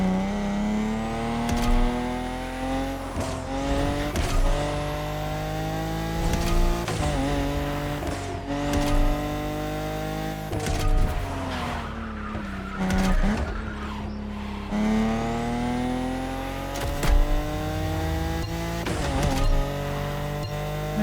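A car races in The Crew Motorfest video game on a slalom course, its engine revving and shifting in repeated rising sweeps while tires squeal and skid through tight turns, loud and continuous with no voices.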